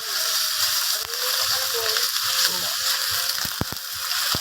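Garlic frying in a pan while chicken curry is cooked: steady, close hissing sizzle throughout, with a few sharp knocks near the end and people talking over it.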